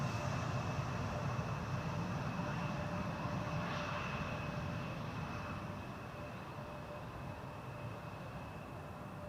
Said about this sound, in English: it is going to be an Embraer 190